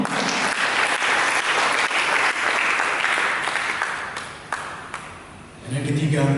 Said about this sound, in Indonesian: Berikan tepuk tangan begitu.